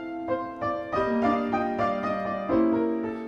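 Piano sounds a plain triad, several struck chords ringing in quick succession, close and moderately quiet, with no voice over them.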